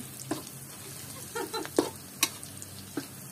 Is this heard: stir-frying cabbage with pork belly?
yes